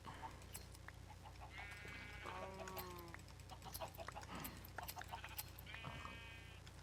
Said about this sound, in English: Woo! Sheep.